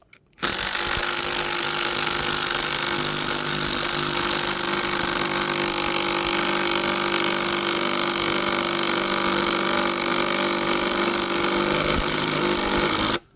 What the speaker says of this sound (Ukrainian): Чи справиться новий гвинтоверт із старим пеньком?